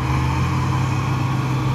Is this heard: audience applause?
no